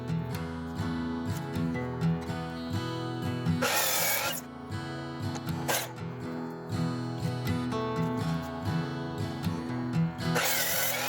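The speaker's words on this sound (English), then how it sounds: "then I'll just flip them all down to 2x2 on the table saw" A table saw rips wooden boards down to 2x2 under a steady motor hum, with three brief hissing bursts as the blade bites, the last near the end.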